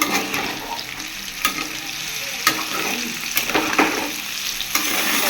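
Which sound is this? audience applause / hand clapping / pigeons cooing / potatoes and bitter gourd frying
potatoes and bitter gourd frying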